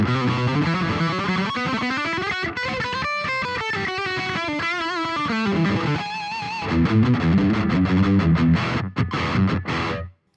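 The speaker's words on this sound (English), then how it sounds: "I'm gonna bring in a bit of plate reverb" Electric guitar through a BOSS Tube Amp Expander with plate reverb, played as sustained distorted chords and melodic lines that ring out continuously and loud for about ten seconds before stopping abruptly.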